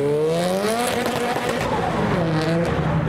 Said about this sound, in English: We've got Nissan Power in the Datsun, as in it's got an RB, and then we've got a Honda Power in the Toyota, leaving as a duo.